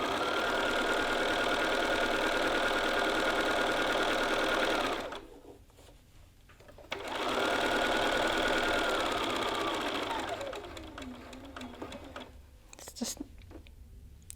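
A sewing machine back tacks and then sews down a yoke seam, its motor whirring loud and close in a long steady run, pausing briefly, then running again before slowing and stopping.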